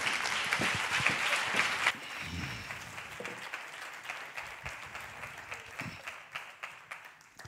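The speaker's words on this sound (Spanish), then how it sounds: "los voy a dejar ya con este maravilloso aplauso" A conference audience gives a speaker a round of applause that starts fairly full, then thins into scattered, fading claps. Some murmuring and small room sounds follow.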